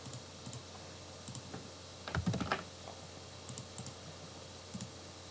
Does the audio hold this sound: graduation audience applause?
no